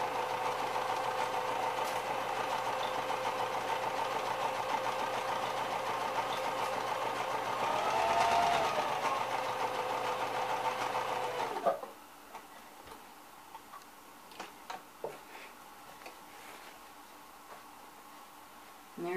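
A sewing machine runs steadily, stitching two pieces of fabric together for a quilt, its rapid mechanical ticking continuous and close for about twelve seconds before stopping, leaving faint handling clicks and quiet room sounds.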